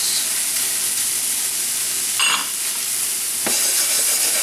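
Shallots sauté in a hot pan with a steady close sizzle and hiss, broken by a couple of brief stirring scrapes.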